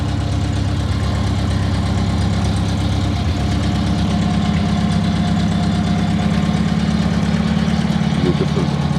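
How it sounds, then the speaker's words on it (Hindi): A sports car idles steadily right after a push-button start, a continuous low engine rumble with a faint belt whine riding above it, close and even throughout; a voice talks briefly over it. "ये वाइनिंग साउंड आ रही है बेल्ट की"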